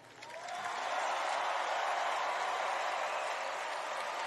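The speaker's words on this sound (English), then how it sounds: "Please give a warm round of applause for our superstars of tomorrow." A wrestling event crowd breaks into applause that swells within half a second and holds as a dense, steady wash of clapping and cheering, sounding somewhat distant.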